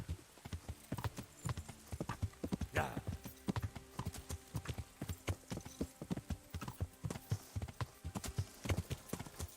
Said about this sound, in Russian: Это галоп.